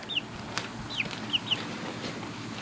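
Baby chicks at a chicken farm give four short, high peeps, spaced irregularly over a steady outdoor background hiss.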